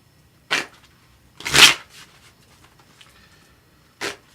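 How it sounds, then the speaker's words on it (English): A few brief riffling bursts of a deck of tarot cards being shuffled, three quick flurries separated by quiet pauses. "I usually always shuffle my cards"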